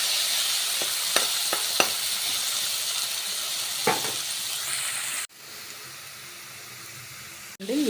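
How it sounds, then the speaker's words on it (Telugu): Potato pieces sizzle loudly as they fry in a pan with salt until crisp, with sharp clicks and scrapes from stirring over a steady hiss that drops suddenly to a quieter fry partway through. "ఆలు వేసుకొని మంచిగా క్రిస్పీ వచ్చేటట్టుగా, మరీ ఎక్కువ కాదు, మంచిగా వేగేటట్టుగా వేయించుకోవాలన్నమాట"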